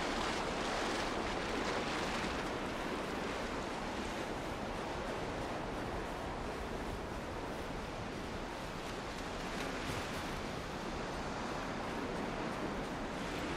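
A river in the video game Valheim gives off a steady, dense wash of rushing water that holds an even level throughout, with no voices over it.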